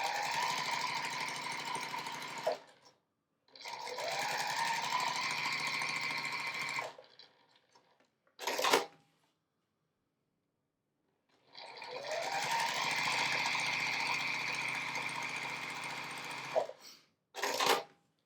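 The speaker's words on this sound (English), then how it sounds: "then just sew across those lines" Sewing machine stitching quilt squares in two long steady runs of fast motor whir, each ending with brief clicks, separated by quiet pauses; close and loud with no talking.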